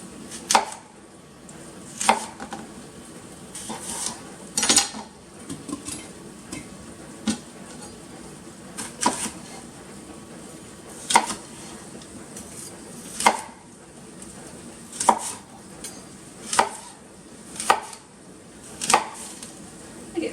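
Apples being chopped into chunks on a cutting board for homemade cider vinegar, a steady series of sharp knife thuds at an uneven pace, close and clear, with no talking.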